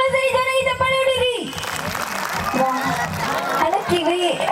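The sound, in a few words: audience clapping and applause at a comedy show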